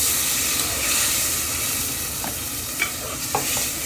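Tamarind sour curry with turmeric and ginger-garlic paste frying in a pot, a constant broad hiss of sizzling oil with a couple of faint utensil taps near the end, close and unaccompanied by talk.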